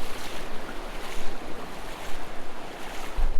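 Water of Red Creek rushing and splashing around the legs of a hiker wading across, a loud broadband churn that surges and dips unevenly throughout, with wind buffeting the microphone and no talking.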